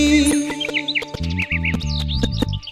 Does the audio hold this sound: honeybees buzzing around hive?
no